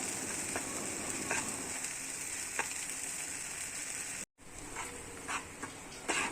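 Spinach paste sizzling in a hot pan while being stirred continuously, a dense steady frying hiss with occasional scraping strokes of a spoon, close and fairly loud, with no voices.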